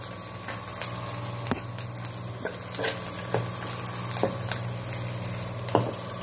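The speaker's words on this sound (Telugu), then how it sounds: "ఇదంతా కూడా బాగా కలపాలి" Gongura chutney being stirred into a tempering with the stove switched off, a low continuous sizzle under repeated light scraping and clinking of a spoon against the pan at irregular intervals, close and moderately quiet.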